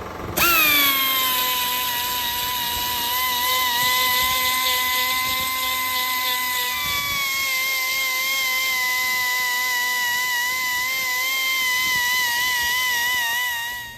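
A power tool with a sanding roll whines at a steady high pitch grinding an aluminum intake manifold port, a continuous drone that shifts tone slightly midway.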